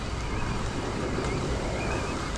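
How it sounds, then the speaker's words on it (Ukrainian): Strong gusting wind beside a river roars steadily and broadly into the microphone, with a rough, buffeting rumble throughout and no voices. "який зараз вітер дує, це якийсь капець. Такі пориви сильні."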